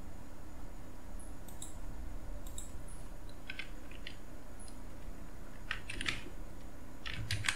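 Typing on a computer keyboard: scattered bursts of light clicking keystrokes, close and fairly quiet, separated by short pauses over a low background hum, with no voices.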